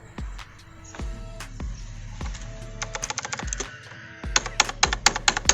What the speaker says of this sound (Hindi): क्लिकी साउंड्स है, तो जिन लोगों को क्लिकी साउंड्स अच्छा लगता है, क्लिकी मैकेनिकल साउंड्स